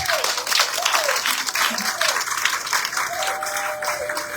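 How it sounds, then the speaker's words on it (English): Health workers at the dedication of a renovated maternal ward applaud, a steady wash of clapping with crowd murmur and a voice over it. "the health workers, you clap for yourselves."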